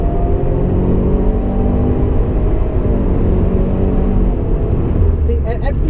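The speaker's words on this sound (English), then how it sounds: "See, every time it shifts" Engine of a 2015-2017 Subaru WRX with a CVT, accelerating under load through simulated gear shifts, a steady loud rumble with stepped pitch changes, heard from inside the car.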